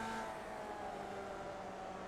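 Formula Vee race car engine revving hard in third gear in the iRacing sim at Charlotte, a steady, buzzing high-rpm drone that holds close and loud throughout without pause.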